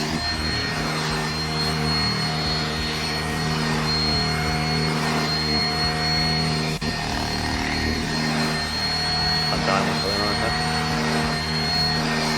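A Deerma CM1500 UV mites vacuum cleaner runs on cushions and a chair with a loud, steady motor whine and airflow roar, continuous and close throughout.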